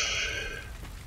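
Rain falling in the survival sandbox game Ylands, a steady hiss of drops that thins and fades over about a second, with no talk.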